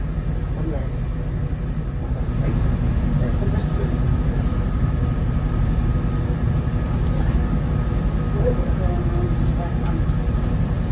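A passenger train runs along the Causeway Coast line in Northern Ireland, heard from inside as a steady low rumble and drone with faint rattles, continuous and even throughout.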